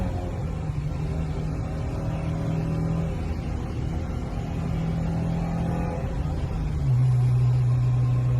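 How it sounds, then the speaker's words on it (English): An onboard recording of a car engine fitted with a Grady header and Apex exhaust, producing a loud, steady droning hum that holds at one pitch and then steps to a lower, stronger tone near the end. "a Grady header and an Apex I exhaust. And the reason why this is worth showing you guys is because it sounds good"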